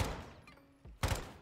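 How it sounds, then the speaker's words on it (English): Gunfire from a Call of Duty match in a professional esports semi-final, two short bursts of loud shots separated by a quieter gap, the second burst punchier and closer. "Oh, the gunfire."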